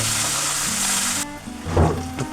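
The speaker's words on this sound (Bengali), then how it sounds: "পেঁয়াজের পাতা নতুন পেঁয়াজের পাতা এবং পেঁয়াজ ভালো করে ভেজে নেওয়া হচ্ছে" Chopped onion and spring onion leaves fry in a pan with a steady, close sizzle that shifts partway through as they are stirred, with a few soft clanks of the utensil.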